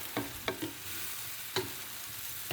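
Mushrooms seasoned with black cracked pepper sizzle in a frying pan, with several distinct stirring or tossing scrapes and clatters spaced irregularly over a steady close frying hiss.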